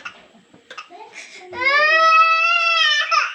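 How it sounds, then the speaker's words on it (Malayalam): An infant cries loudly and close, a sustained high wail lasting over a second after some faint mumbled talk and household noise. "അവിടെ കരയുന്നു"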